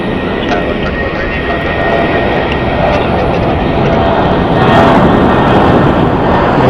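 Jet airliners, including Airbus A320s, roar steadily through takeoff runs at a busy desert airport, a loud continuous rumble that swells slightly near the end.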